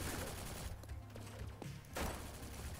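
Gunfire from a weapon in the video game Mayday, a dense burst of loud shots at the start, a brief lull, then another burst, heard up close with no talking.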